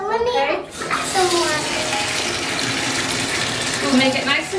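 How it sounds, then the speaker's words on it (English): Water gushes steadily into a toy spa tub as it is topped up with cold water, a continuous running-tap splash throughout while adults and someone talk over it. "Do we need to add a little bit more water?"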